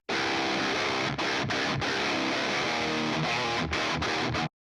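Heavily distorted metal guitar from a 5150 amp, voiced with boosted mids and reduced bass, churns through a tight riff with a few sudden clipped pauses, loud and upfront with no other sounds.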